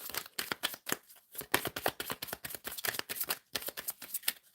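A deck of life purpose tarot cards is shuffled by hand in a quick, steady run of close, crisp riffling slaps, loud and uninterrupted with no voice over them.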